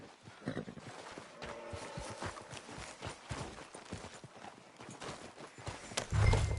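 Horse hooves clip-clop in a steady walking rhythm in Red Dead Redemption 2, fairly quiet and continuous, with a louder thump right at the end.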